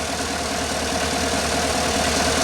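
A GMC truck's 5.3 LS V8 idles steadily up close, a continuous even rumble with a faint rhythmic tick and no voices over it.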